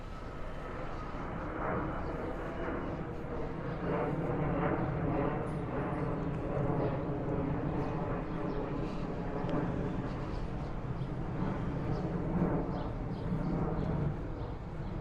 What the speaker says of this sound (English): So there's a lot of planes, obviously taking off and landing.